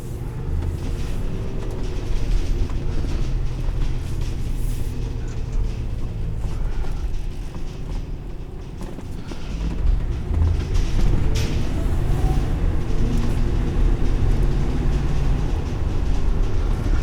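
A 2021 GMC Savanna 3500HD van with a 6.6L V8 drives along steadily, its low engine drone and road rumble filling the cabin continuously and swelling slightly about two-thirds of the way through.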